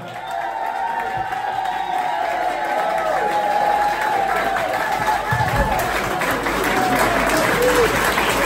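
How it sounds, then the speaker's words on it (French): A church congregation applauds and cheers during a special worship service, a loud, sustained roar of clapping with whoops and crowd voices that fills the space without a break. "Tu vas lui apporter une ovation, une acclamation, un sourire, un cri de joie."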